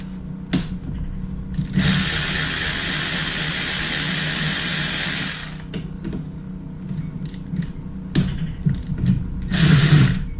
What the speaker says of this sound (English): take an 8mm Allen, take our calipers off.